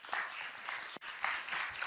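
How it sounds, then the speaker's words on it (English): Audience applause at a conference event on pioneering women in European innovation, a modest, fairly thin patter of clapping from a room, continuing with a brief dip midway. "that applause was a bit lame"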